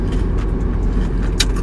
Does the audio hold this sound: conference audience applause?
no